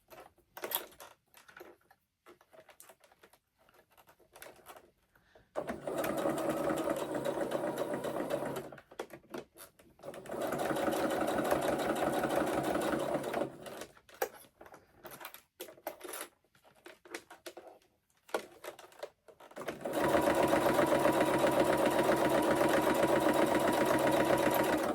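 Sewing machine stitching fabric close to a cord, three runs of steady rapid mechanical chatter, close and fairly loud, separated by quiet gaps with light handling noises.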